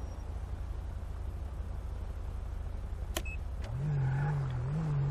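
A police squad car in GTA V FivePD, its engine humming steadily at idle before a short click and a few electronic beeps, then revving into a louder, wavering drone.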